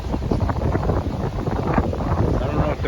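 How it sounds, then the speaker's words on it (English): Strong wind blows across the lakeside malecon in Chapala, Mexico, buffeting the microphone with loud, continuous gusty rumble and roar throughout. "very windy here in Chapala today."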